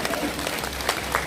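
A short burst of dense applause from the audience at a political town hall meeting, fairly loud and steady throughout.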